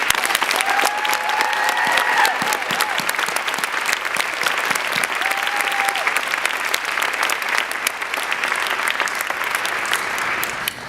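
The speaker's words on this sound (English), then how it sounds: "Please give them a round of applause." A large audience at a conference opening-night event applauds loudly and steadily for about eleven seconds, with a few faint whoops carrying over the dense clapping.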